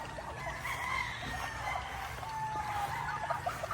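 Chickens and fighting cocks, including Kelso and Roundhead gamefowl, cluck and crow at a farm during feeding, with drawn-out crows at moderate distance over steady background noise.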